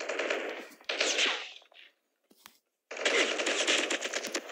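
Automatic gunfire in the shooter game COD Mobile, two loud rapid bursts of rattling shots separated by a short gap with a couple of faint single cracks, no talking.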